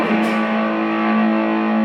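A short burst of heavily distorted electric guitar through a Marshall Code25 amp, a thick sustained chord ringing loud and alone with a fuzzy, saturated edge.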